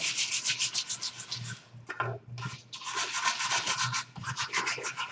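A wooden box is rubbed hard to wear through paint for a Mexican patina finish, giving continuous close, loud scraping strokes with brief pauses between passes.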